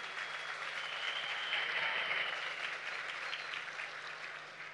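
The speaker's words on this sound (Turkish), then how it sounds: "Kendisini yürekten alkışlıyoruz." A crowd applauds at an outdoor political event at a municipal market in Akhisar, a dense, steady wash of clapping held throughout at moderate distance, with no voice standing out above it.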